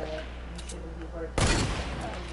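Gunfire in a sniper shooter video game: a single loud, sharp burst cracks out about midway through, following quieter game background sound and faint tonal effects.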